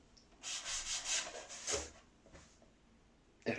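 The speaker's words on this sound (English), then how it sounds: "I've got to cut the cockpit out and trim the end" A tool rasps and rubs across plywood while the cockpit is cut out and the end trimmed on a refurbished Fokker DR1 model, giving a few close, quiet strokes followed by a pause and a final scrape.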